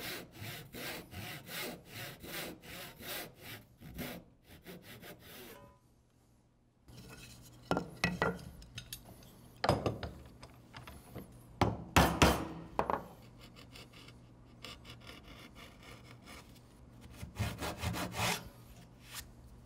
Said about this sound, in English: then come across to make that V-shaped stop cut, and then cut down with the saw.